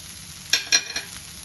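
Tomato and capsicum fry in a pan, giving a soft sizzle with a few quick stirring scrapes, close and fairly quiet.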